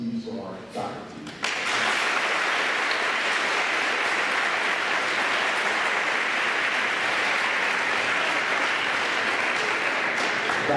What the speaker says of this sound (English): Could I have a round of applause, please, for our faculty?